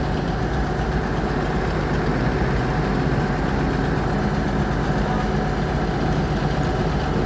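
A Jetbus 2 coach idles at the Palembang bus terminal, its low engine rumble steady and constant throughout without a break, with no voices over it.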